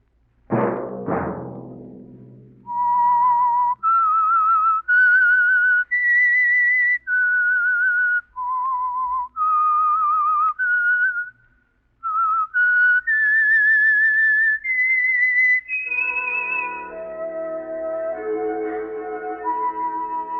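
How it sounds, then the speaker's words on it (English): A solo whistled melody serves as the theme signal of the radio program The Whistler. It opens with a sharp attack and then carries clear, sustained notes in a slow, eerie phrase, with a sustained chord rising at the close. "Let that whistle be your signal for the Signal Oil program, The Whistler"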